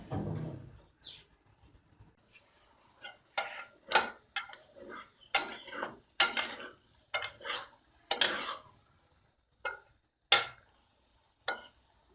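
A metal spoon scrapes and clinks against a pan as chana daal roasts in ghee with green cardamom, producing irregular close stirring knocks and scratches over a quiet background.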